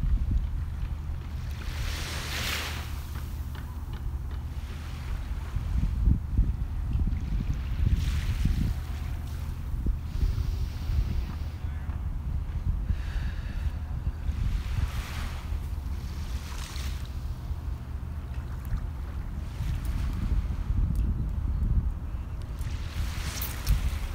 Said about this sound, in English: listen to a few more repeats of these beautiful waves.